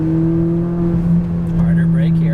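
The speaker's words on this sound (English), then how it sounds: "Now full throttle left side" A McLaren 570S pulls under full throttle on a track, its engine a strong steady drone with a rising whir, loud and close from inside the car, while a voice speaks over it.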